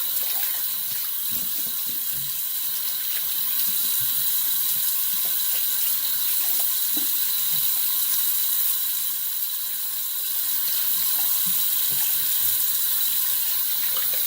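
Cold water runs steadily from a sink tap, a constant close hiss and splash that continues for over ten seconds with faint knocks and clinks underneath.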